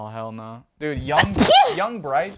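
One sharp, loud sneeze bursts out mid-conversation, with people talking just before and after it.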